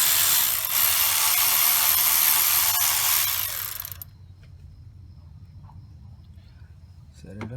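Ratchet loosening a 13 mm bolt on a Toyota Avalon V6 cover: rapid, loud, steady clicking for about four seconds, then it stops, leaving quiet handling noise and a brief clack near the end.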